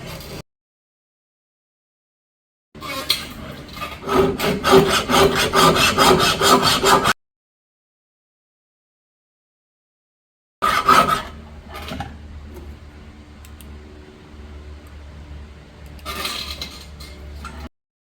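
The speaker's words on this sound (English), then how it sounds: "So I'll show you how we file and how we get started." A hand file working a knife blade bevel in a filing jig, with rapid rhythmic rasping strokes in two bursts separated by silence, close and clear.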